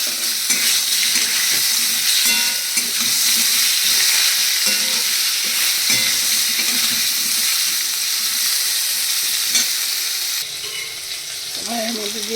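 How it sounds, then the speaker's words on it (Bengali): Potatoes, aubergine and chilli frying together in oil in a pan, a loud, dense hissing sizzle throughout with scattered stirring clatters, close up, easing slightly near the end. "সবজিটা ভাজা হচ্ছে, তার সাথে লঙ্কাটা ভাজা হচ্ছে"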